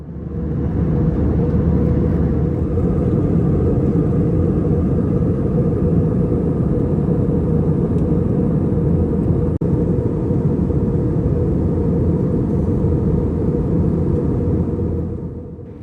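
Inside an Air Macau Airbus A321 cruising after takeoff near Hong Kong, a constant deep cabin roar with a steady low rumble fills the space, loud and unchanging throughout with no talk.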